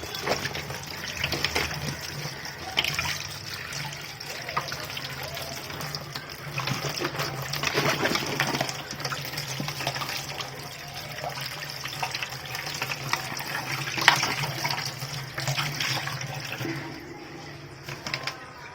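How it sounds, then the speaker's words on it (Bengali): Bitter gourds being rinsed under a running kitchen tap, a steady broadband splash of water that continues close and fairly loud for the whole stretch, with no voices over it. "এগুলো আমরা কলে পরিষ্কার করে ধুয়ে পানি ঝরিয়ে"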